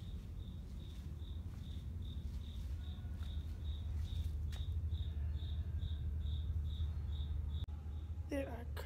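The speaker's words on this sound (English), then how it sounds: "There are crickets in the janitor's closet." Crickets chirping in a janitor's closet: a steady, evenly pulsed chirp repeating about twice per second over a low room rumble, with faint voices at the end.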